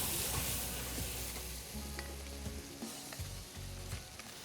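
Onions and garlic dropped into a hot pot for St. Lucian curry, a continuous crackling fry close by with a few stirring knocks, no voices.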